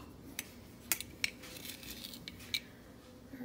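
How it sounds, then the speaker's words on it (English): Tablespoons of sugar spooned into a bowl while making pimento cheese, several light metallic clinks and scrapes of the spoon against the bowl, close and fairly quiet, with no talking. "now I want to add about 3 tablespoons of sugar"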